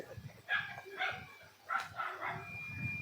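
A dog barks four or five times in short, uneven bursts, each bark moderately loud and close, over a faint murmuring background.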